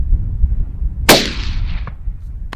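A single loud rifle shot fired while hunting cracks close by, followed by a long rolling echo that fades over nearly a second against a quiet outdoor background.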